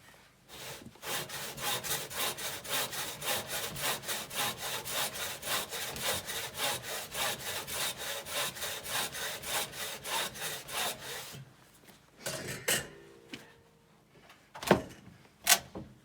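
A Woodland Mills HM130 sawmill cuts huge birch, pine and fir cants into boards, a fast, rhythmic rasping that runs steadily for about eleven seconds, then stops, followed by a few scattered knocks and clunks.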